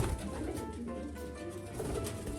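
Pigeon cooing inside a breeding loft, soft repeated throaty coos close by, overlapping with faint rustling and other birds in the background.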